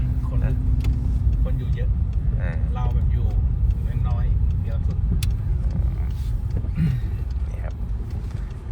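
A car with a 1.4 engine driving on a Swedish road at night in Östersund, with steady low engine and road rumble throughout under ongoing conversation inside the cabin.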